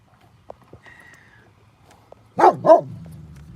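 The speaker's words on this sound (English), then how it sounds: "Don't bark at people. It's rude." Gomez the dog fires off two sharp, loud barks in quick succession at nearby people, close to the listener, after a stretch of faint background clatter and small knocks.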